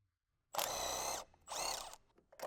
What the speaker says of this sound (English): use a 15mm socket with the extension on the impact to remove the 4 remaining nuts